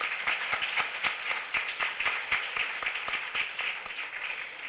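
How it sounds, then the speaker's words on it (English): An audience at a parent appreciation ceremony claps at moderate volume, distinct individual claps in an uneven rhythm that continues throughout. "So I want to give them a round of applause."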